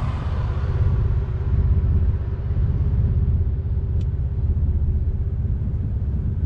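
A single turbo Nissan G35 drives along with a steady, loud low engine rumble and road drone, holding an even level from start to finish with no distinct revving.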